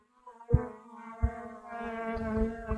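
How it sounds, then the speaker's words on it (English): Close buzzing of bees humming steadily while being moved into a horizontal hive, with a few bumps and knocks against the microphone. "I'm trying to get these bees off my mic."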